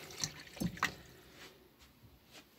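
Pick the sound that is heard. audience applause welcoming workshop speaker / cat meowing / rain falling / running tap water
running tap water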